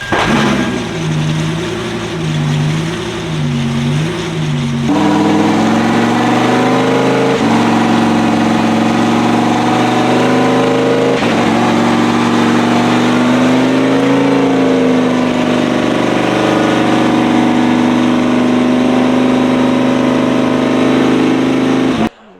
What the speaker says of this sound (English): he's gonna start up the Lamborghini Super Trofeo and run through the gears, kind of warming up